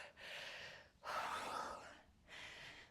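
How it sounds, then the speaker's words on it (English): Deep breaths during a full-body midlife workout: a breath, then a stronger, longer airy exhale, then another, close and clear with no talking. "I tend to take a deep breath at the top and then breathe out"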